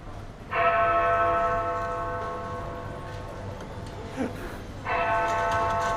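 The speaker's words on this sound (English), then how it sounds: "And actually you can hear the sound of the bell." A large Lego model of Big Ben's Elizabeth Tower, displayed in a London Lego store, strikes its bell twice. Each ringing chime decays slowly over a quiet indoor hum, with about four seconds between strikes.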